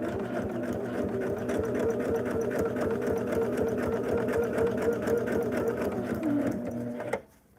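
A sewing machine runs steadily at close range while stitching quilt pieces for a double wedding ring quilt, a rapid even needle clatter and motor hum lasting several seconds before stopping abruptly.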